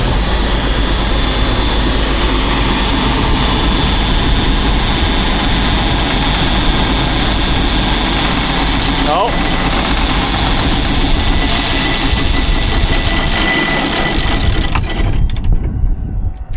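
A loud, close engine runs with a steady low rumble for about fifteen seconds, then sputters and dies away into near silence at the end.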